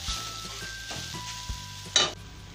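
Grated carrots fry in a pan for gajar halwa, giving a steady sizzle with a few louder scraping stirs, one sharp clatter near the end, and no talking.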